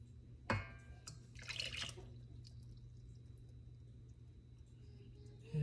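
A whole can of coconut milk poured into a mixing bowl for banh bo nuong batter, a short splashing liquid pour near the start that trails off into quiet room noise.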